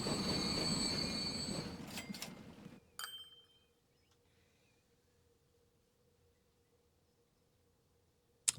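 Train wheels squeal in a loud, high, sustained screech in the video game Transport Fever 2, then cut off abruptly, leaving a low steady hum and a faint click at the end.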